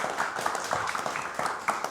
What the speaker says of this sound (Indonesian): Boleh saya dengar tepuk tangannya dulu?